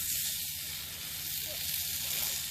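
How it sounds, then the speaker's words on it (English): Steady, close sizzling and crackling of bacon frying in a hot pan, a continuous bright hiss with no talking. "frying with some bacon."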